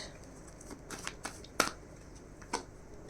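Tarot cards being shuffled and drawn by hand at close range: soft papery riffles and a few sharp flicks and snaps of card against card, quiet and intermittent.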